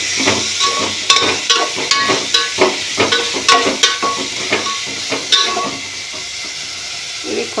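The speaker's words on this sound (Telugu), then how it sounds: "కాకరకాయలు వేసుకొని మంచిగా కలుపుకుందాము. ఈ విధంగా కలుపుకోవాలి. మంచిగా నూనెంతా బట్టే విధంగా మంచిగా కలుపుకోవాలి." Pieces of bitter gourd are stirred in hot oil in a pan, with a rapid run of close, loud scraping and sizzling strokes that slow and fade toward the end.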